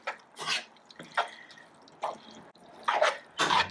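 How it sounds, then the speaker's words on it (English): Capellini pasta with tomato and basil is stirred in a pan, producing soft, wet squelching bursts in a loose rhythm, close and without talk. "You add the whole amount to your pan and stir it to mix it well."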